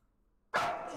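A dog attacking someone gives a sudden loud, harsh bark after half a second of near silence, with the noisy burst carrying through to the end.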